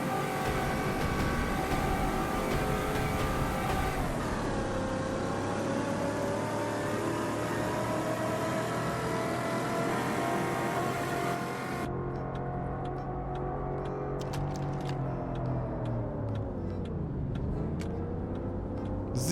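Engine of a car driven through a Minecraft game world drones steadily and loudly throughout with shifting revving pitch and dips, no voices present.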